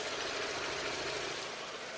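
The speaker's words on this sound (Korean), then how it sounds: "차량 엔진 소음 들려드리면은" The gasoline 3.0 VVT engine of a Cadillac SRX idles with a steady, even hum and hiss heard close from the open engine bay, unbroken and alone with no voices.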